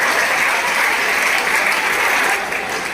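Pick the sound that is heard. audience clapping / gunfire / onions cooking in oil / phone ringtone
audience clapping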